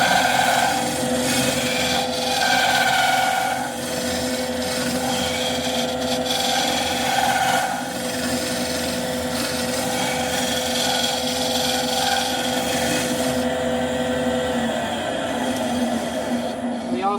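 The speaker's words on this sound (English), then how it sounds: "I'll go in with my round nose scraper and just smooth that out." A round nose scraper rubs steadily across a wooden bowl spinning on a lathe, a continuous scraping hiss over the motor's hum, close and fairly loud.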